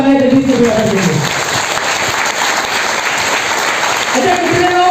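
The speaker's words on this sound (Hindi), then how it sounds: "एक बार जोड़ा तालियां जगदीश कबीरा सर के लिए।" A crowd at a training seminar in Faridabad breaks into sustained applause, dense and steady throughout, with a presenter's voice heard at the start and again near the end.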